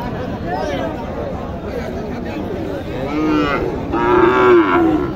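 Cattle moo at a busy livestock market in Naogaon, several loud drawn-out lows near the end rising over a constant crowd hubbub and nearby chatter.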